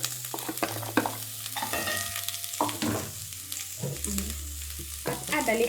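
Onions sizzling and frying in a pan as they are stirred, a quiet crackling hiss broken by scraping and clinking utensil sounds, close up with no voices.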